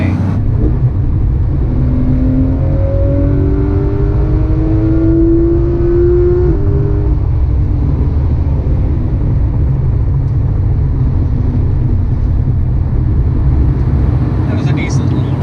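A Porsche GT3 RS with a swapped exhaust revs and accelerates on an LA freeway, its deep continuous engine rumble loud and steady throughout, with rising rev tones climbing briefly near the start under constant road and wind noise.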